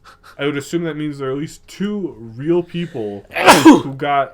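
One loud, sharp sneeze bursts out close to the microphone in the middle of steady conversational speech, and the talking picks up right after it.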